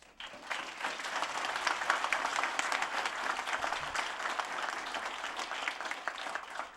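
An audience applauds Governor Inslee and Trudy Inslee at a bill signing, a dense, sustained round of clapping from a room full of people that swells quickly and carries on steadily.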